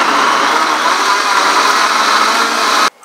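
A kitchen blender grinds leafy greens in a loud, steady whir that runs continuously for about three seconds, then cuts off abruptly at the end.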